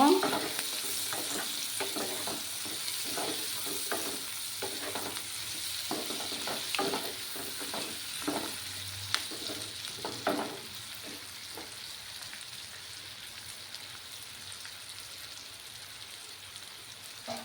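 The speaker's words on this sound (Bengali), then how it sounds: "দেবো পরিমাণ মতো হলুদ গুঁড়ো, দিয়ে ভালোভাবে নাড়াচাড়া করে নেব।" A katla fish head fries with turmeric powder in a pan, stirred with a spatula that scrapes and taps repeatedly over a steady close sizzle, and the stirring thins out in the second half until the hiss goes on alone.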